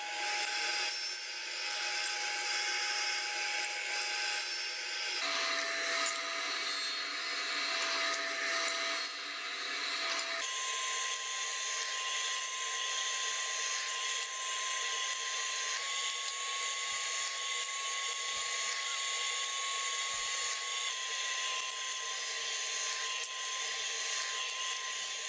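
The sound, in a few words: power tool cutting grooves in drawer box pieces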